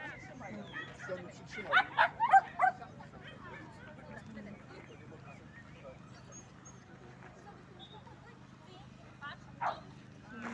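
Dog at an agility competition in Gdynia, a quick cluster of sharp barks and yips early on and a single later yelp, set against quiet crowd murmur and talk.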